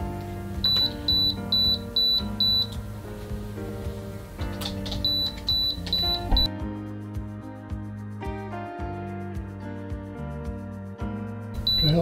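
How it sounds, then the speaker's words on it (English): Repeated short bursts of high electronic beeping from an RC radio transmitter, in two clusters near the start and middle of the clip, sounding over steady tonal music from a USB flight simulator setup. "What the hell's beeping? Oh,"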